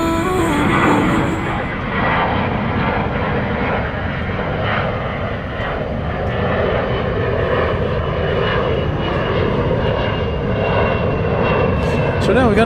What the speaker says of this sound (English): So now we got another A300 on the move.